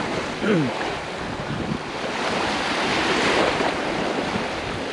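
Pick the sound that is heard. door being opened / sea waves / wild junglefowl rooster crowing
sea waves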